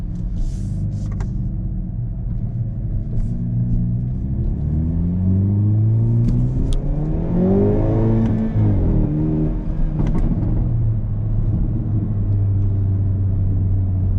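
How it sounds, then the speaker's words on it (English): A Hyundai i30 N hot hatch's engine revs up and down in manual mode with a throaty exhaust note, climbing to a peak then settling into a steady rumble, heard from inside. "So entertaining, the sound of the exhaust."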